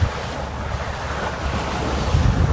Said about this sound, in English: A lot of chop on top of the swells